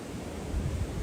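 River with a waterfall beside a hiking trail on the Pacific Crest Trail near Timberline Lodge, a steady rushing roar of falling water, close and continuous with no talk.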